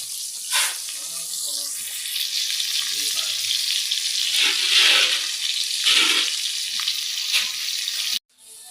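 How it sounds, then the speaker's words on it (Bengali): Spices being sautéed in a pan in a home kitchen give a steady, loud sizzle and fry that runs almost unbroken, with brief stirring scrapes, then cuts off abruptly near the end. "এদিকে মশলা কষানো হচ্ছে"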